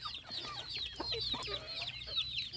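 Several chickens cluck and chatter close by, with overlapping short calls in an irregular rhythm over a faint low background.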